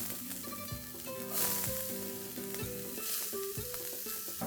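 Onions and capsicum stir-frying in smoking-hot oil in a pan over high flame, a steady close sizzle with repeated metallic stirring and tossing knocks keeping an uneven rhythm.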